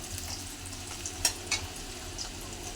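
Onion and green chillies frying in a wok, a soft steady sizzle with two brief sharper crackles of stirring midway; no one speaks.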